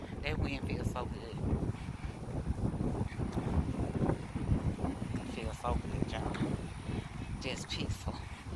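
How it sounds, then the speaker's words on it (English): Wind blows hard outdoors on a sunny exercise walk, a steady roaring rumble buffeting the microphone throughout, with a voice speaking now and then under the gusts. "Listen to that wind."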